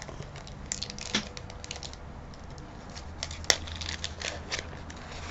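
Beads and assorted recycled craft materials, including stick-shaped beads, being mixed together for a homemade rain stick, giving a light, scattered rattling and clicking with one sharper clack, close by with no talk.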